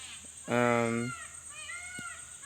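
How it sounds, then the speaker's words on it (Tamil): A peacock in a forest near banana trees lets out one loud, drawn-out wailing call, followed by fainter calls in the background. "சவுண்டு கேட்கா? மயில் கத்துது."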